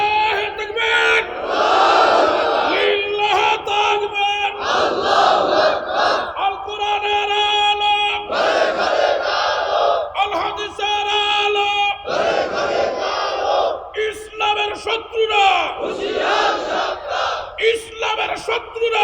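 A large crowd at a religious sermon shouts the takbir in unison, several loud surging chants rising and falling in repeated waves, each swelling together then trailing off before the next.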